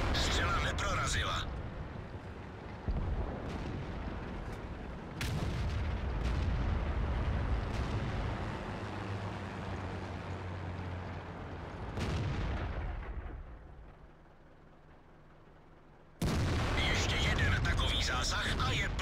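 Tank cannons fire in a video game battle: several heavy booms and blasts with rumbling decay, separated by quieter engine drone, with a crew voice speaking over the action.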